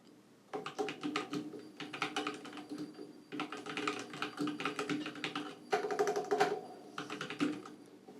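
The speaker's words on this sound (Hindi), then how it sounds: "तो मैं अपने हाथ से टाइप कर देता हूँ।" Hands typing on a computer keyboard in short bursts of rapid, close key clicks separated by brief pauses, with no talking.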